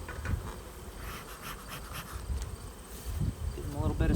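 Honeybees buzz around a nucleus hive on a bee farm, a steady close droning hum with individual bees passing near, and a voice speaks faintly underneath.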